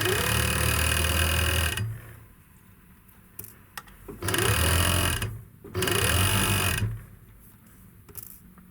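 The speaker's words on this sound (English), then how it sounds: "We begin to collect from the side seams." Sewing machine stitching the side seams of a skirt in three close, loud bursts of rapid needle chatter, separated by quiet pauses with small handling clicks.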